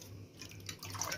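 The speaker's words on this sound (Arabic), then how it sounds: "شعرة ميه كده، حبه ميه كده." A little water trickles and drips into flour for Egyptian feteer meshaltet dough, a faint, brief pour building toward the end over a low background hum.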